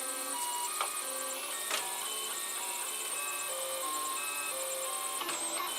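A Protomaker 3D printer running a print with no calibration, its stepper motors giving a steady whirring drone broken by shifting tonal whines and a few brief clicks, close and continuous throughout.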